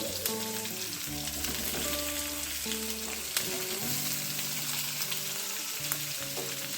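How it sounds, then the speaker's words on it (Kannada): Garlic cloves and a small piece of ginger fry with onion in a pan for a tomato-onion chutney, giving a constant close sizzle with occasional stirring scrapes, while background music plays over it. "ಚೆನ್ನಾಗಿ ಫ್ರೈ ಮಾಡ್ಕೊಳ್ಳೋಣ"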